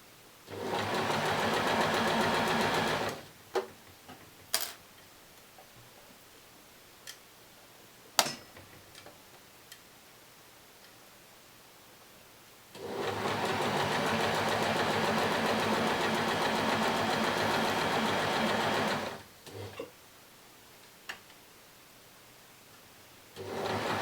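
A sewing machine stitching fashion doll tights runs in two long steady whirring bursts, separated by quiet pauses with a few sharp clicks as the fabric is adjusted.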